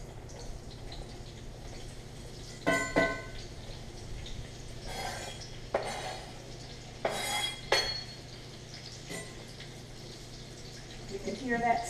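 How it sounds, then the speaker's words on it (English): Bacon and eggs fry in a cast iron pan, a soft steady sizzle under a low hum, broken by a few sharp clatters and scrapes of utensils; no talk is evident. "You can hear that sizzle."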